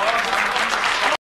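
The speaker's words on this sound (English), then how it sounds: "Jeongnyeon gets a warm applause from the audience" Warm audience applause for a young woman's singing, a dense even burst of clapping from a crowd that runs steadily for about a second before cutting off abruptly.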